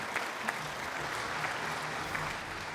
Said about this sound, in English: let's have a big round of applause for Billy and Kayla Tab as they come to the stage